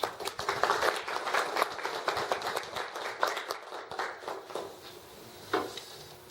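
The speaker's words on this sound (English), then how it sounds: "please join me in a round of applause" A modest round of applause from a small audience, distinct individual claps close by that thin out and fade toward the end, with a single late clap.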